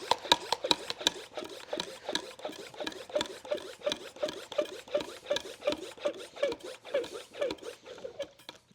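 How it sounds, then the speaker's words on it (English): Gym mats get mopped at close range, with a steady back-and-forth rhythm of wet rubbing and squeaky swishes over many strokes and no talking. "Mopping the mats, getting ready for classes."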